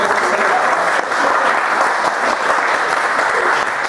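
A seminar audience applauding steadily, dense clapping that fills the space evenly for several seconds without pause.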